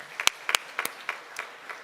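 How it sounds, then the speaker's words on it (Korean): A church congregation at a Wednesday worship service gives a short round of applause, with a few sharp claps standing out before the scattered clapping quickly fades, fairly faint and heard alone. "우리 하나님 영광의 박수 드리겠습니다."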